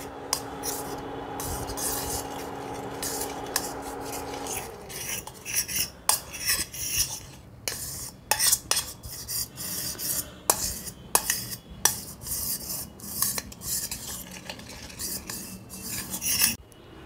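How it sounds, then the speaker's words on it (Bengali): A metal spoon scrapes and taps around a kadai while ghee is spread over it, giving irregular close scraping strokes and clinks that begin after a steady tone cuts off, with no one talking. "কড়াইতে ঘিটা দিয়ে পুরো কড়াইটাতে আমি ঘিটা মাখিয়ে নেব।"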